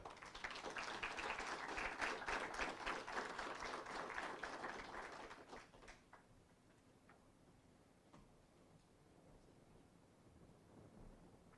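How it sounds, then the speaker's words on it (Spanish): Warm applause from an audience at an event in a screening room, welcoming a senator to speak; dense, steady clapping fills the first six seconds, then fades to scattered faint claps and room hush. "Lo recibimos con un cálido aplauso."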